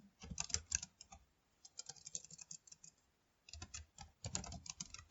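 Someone types on a computer keyboard in quiet bursts of rapid clicking keystrokes, with a pause in the middle before the tapping resumes, close and fairly soft with no voices.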